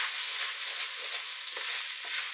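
Beef browning in a pot for a pasta bake gives off a steady, dense sizzle, with a few soft scrapes of stirring partway through.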